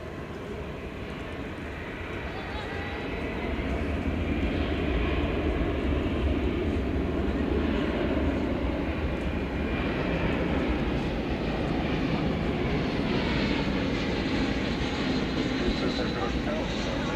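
Engines of an Airbus A321 airliner at DFW Airport make a broad, steady roar that swells after a few seconds and then holds loud and sustained.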